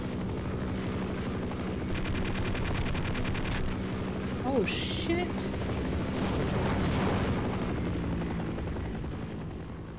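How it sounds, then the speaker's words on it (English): Helicopter in the video game Half-Life, a steady rotor drone under bursts of rapid gunfire and a few sharp impacts, with someone talking over the action. "How do I take out a helicopter?"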